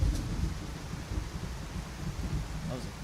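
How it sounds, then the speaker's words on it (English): Thunder rumbles through a Skyrim game scene, a continuous loud, low roll with stormy wind-like texture and no talking. "was a crazy sound effect for the thunder"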